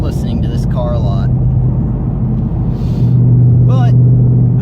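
A Shelby GT500 engine rumbles deep and steady up close, swelling slightly louder partway through, with brief voices speaking over it.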